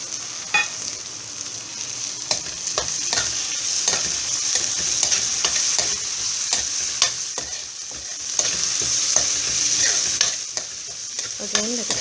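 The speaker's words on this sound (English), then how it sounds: "Again, let it all get fried nicely" Chopped onions and tomatoes fry in a pan for pav bhaji, a constant bright sizzle with frequent clicks and scrapes of a spatula stirring throughout, near and loud with no talking.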